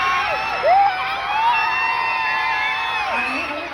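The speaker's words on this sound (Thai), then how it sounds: "เมื่อกี้พี่ได้ยินเสียงกรี๊ดกรี๊ดหนึ่งมันดังมาก" A fan crowd at an event for the film Man Suang shrieks and cheers together, loud and sustained, with high screams rising over the din.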